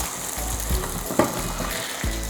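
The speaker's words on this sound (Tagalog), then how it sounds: "At itutuloy ko lang ang pagprito dito sa kabilang side." A potato and egg tortilla fries in a pan, giving a loud, steady oil sizzle broken by a few soft scrapes and clicks as the spatula moves under it.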